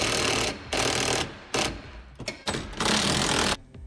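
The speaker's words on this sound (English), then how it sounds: "A 13mm wrench with my 13mm socket on my impact." Bursts from an impact wrench driving a 13mm socket during a Jeep Wrangler stereo install, several loud rattling runs of about half a second to a second separated by short pauses, close up.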